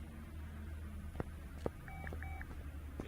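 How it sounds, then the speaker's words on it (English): Telephone dialing tones in a car mechanic simulator game: a short run of paired beeps, quiet over low background hum, with a couple of faint clicks and no talking. "Yeah, that's just the phone."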